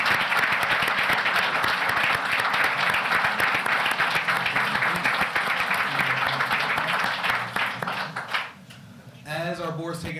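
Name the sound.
audience applause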